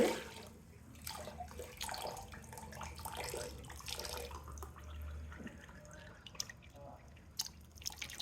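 Water trickles and drips into a cooking pot while making prawn pulao, a soft, continuous pouring close by with light clinks of utensils and faint background talk.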